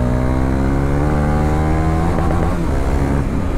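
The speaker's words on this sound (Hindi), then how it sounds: "वैसे ड्यूक में एग्जॉस्ट लगी पड़ी है तो साउंड नोट काफ़ी अच्छा आ रहा है।" A KTM Duke 390 fitted with an aftermarket exhaust rides alongside a Kawasaki Ninja 300 on a street, engines droning loud and close with a rich, rising engine note that builds steadily as they accelerate.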